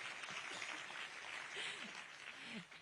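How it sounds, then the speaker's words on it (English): An audience applauds at a university gathering where the French President addresses students at AIIMS New Delhi. The clapping is steady, soft and fairly distant for about three seconds, with faint voices mixed underneath. "We can also give them a round of applause."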